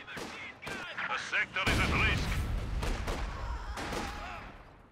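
Sharp rifle reports and heavier artillery-like blasts ring out in a Company of Heroes 2 multiplayer battle, several distinct cracks spaced across a few seconds with faint voices and battle noise between.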